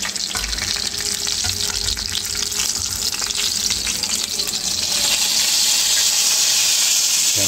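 Tilapia and tosi frying in hot oil, a loud, dense, continuous crackling sizzle that swells brighter toward the end, heard close with no talking.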